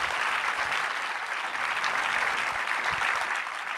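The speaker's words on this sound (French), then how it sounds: "On peut l'applaudir." An audience claps steadily and thickly after a talk by Hugo Clément at the FEET 2025 ecology event, a dense, sustained wash of applause with no pauses.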